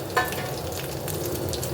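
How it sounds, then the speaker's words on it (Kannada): Cumin seeds and other ingredients fry in hot oil, giving a steady, close sizzle with a soft crackle throughout. No voices are heard. "ಇದೆಲ್ಲ ಫ್ರೈ ಮಾಡಿಕೊಂಡು"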